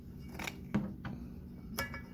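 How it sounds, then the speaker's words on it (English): Scissors snip the end of a soft copper piece in a few sharp, separate clicks spread across a quiet moment. No one talks. "copper is a really soft metal, so you can just cut the end with scissors"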